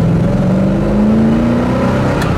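A 1968 Chevelle engine revs up under load in fourth gear to about 3,500 RPM, its tone rising steadily as it accelerates, close and loud.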